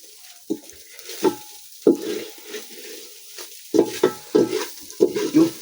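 Sardines fry in a pan over a village cooking fire, with irregular clattering stirs and scrapes of the utensil against the pan over a low sizzle, close up with no talking.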